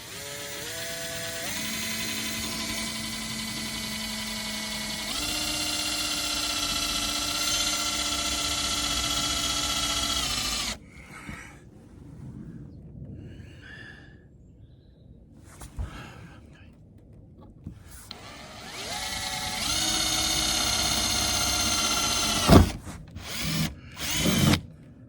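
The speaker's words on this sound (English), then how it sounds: "I've got a stepper bit that will take me down to 22." A power drill with a step bit whines loudly in bursts, its pitch stepping up as it bites through a campervan panel, with quieter pauses and brief clatter between runs.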